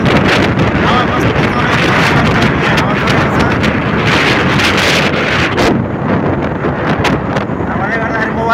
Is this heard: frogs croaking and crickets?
no